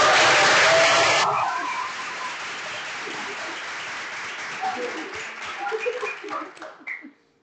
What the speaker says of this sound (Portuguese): Vamos fazer uma salva de palmas